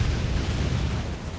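Plasma cannons carried by teleporting Chaos Terminators fire in the Warhammer strategy game Dawn of War, a dense, loud, rumbling barrage of blasts with no clear gaps and no talk.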